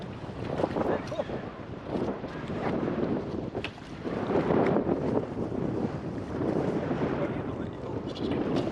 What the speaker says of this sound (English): It's just getting a little windy here.